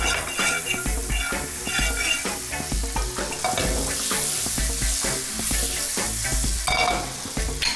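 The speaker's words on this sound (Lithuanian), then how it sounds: "Dedame sviestą." Butter sizzles loudly in a hot frying pan on lowered heat, a steady crackling frying sound with scraping and stirring against the pan throughout, no talk.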